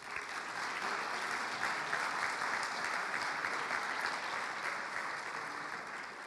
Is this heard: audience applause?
yes